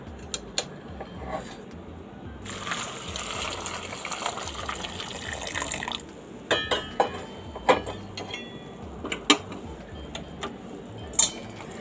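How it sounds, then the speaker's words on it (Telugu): Heated water is poured over soya chunks (meal maker) to soak for pakodi, giving a steady gushing pour followed by scattered clinks and taps of a kitchen vessel. "ఇప్పుడు నేను ఈ మిల్ మేకర్లోకి అయితే వాటర్ అన్నవి వేస్తున్నాను"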